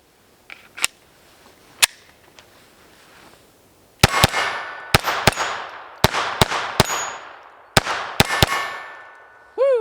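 Rapid .22 shots from a Glock 44 pistol, each followed by a bright ringing clang from steel targets, come in quick irregular strings after a few isolated pops, loud and close with long metallic decay.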